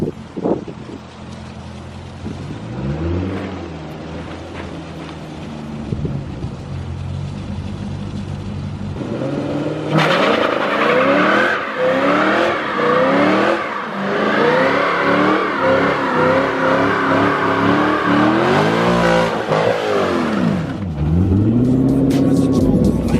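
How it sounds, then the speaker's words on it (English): A Corvette C6 Z06 doing birthday burnouts, its engine revving hard and rising and falling in repeated loud sweeps with wind noise, the roar growing louder and more sustained toward the end. "We're gonna go do some birthday burnouts."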